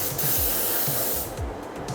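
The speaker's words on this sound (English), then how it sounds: "So I get perfect spray, so the overspray is bouncing into the edge." A spray gun lays primer onto the hood of a 1968 Chevrolet Caprice, giving a loud, close, continuous hiss of atomized paint that briefly eases and surges.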